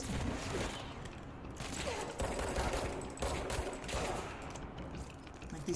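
Rapid gunfire bursts and impacts from a video game shooter, with headshot executions and explosions, sustained and dense throughout at a steady loud level with no break.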